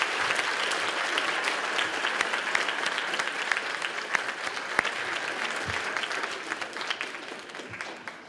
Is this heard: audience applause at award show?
yes